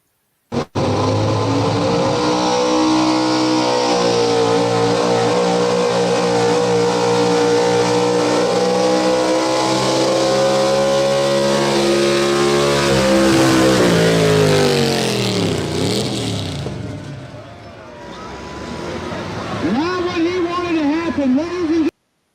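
A pulling truck at a community center truck and tractor pull roars at full throttle during its run despite motor trouble, a loud sustained engine howl that rises and then fades before brief revving bursts, with voices over it.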